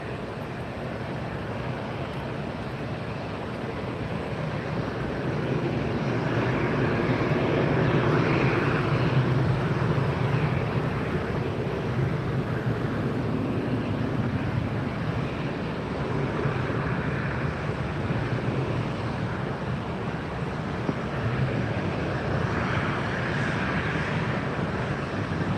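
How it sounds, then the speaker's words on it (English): An American Airlines jet takes off at Fort Lauderdale airport, its engines a broad, sustained roar that swells and holds for the whole stretch at a moderate distance. "We have American lining up for takeoff, and then Spirit will be next in line."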